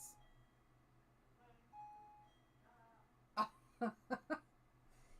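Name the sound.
doorbell ringing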